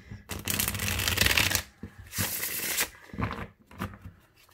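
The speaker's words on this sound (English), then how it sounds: "I'm going to give it a couple regular old shuffles" Tarot cards are shuffled up close in a few quick riffling bursts separated by short pauses, crisp and fairly quiet.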